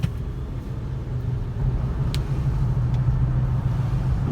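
A 2005 Ford Explorer Sport Trac Adrenalin with a 5-speed automatic driving from inside the cabin: a steady low engine and road rumble that swells slightly partway through, with no distinct shift break, and no voices.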